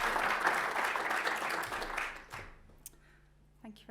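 An audience gives a lecturer a warm welcoming round of applause, with dense clapping sustained for about two seconds before thinning out to a few scattered claps and quiet room noise.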